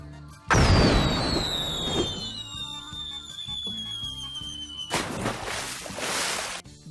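Cartoon cannon launch from the Ruby Gloom animated series: a loud booming blast followed by a descending whistling whoosh over music, then a second burst near the end.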